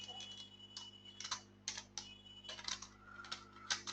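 Bursts of quick clicking keystrokes on a computer keyboard as an SQL query is typed, close and fairly quiet, arriving in irregular clusters with short pauses, over a faint steady electrical hum.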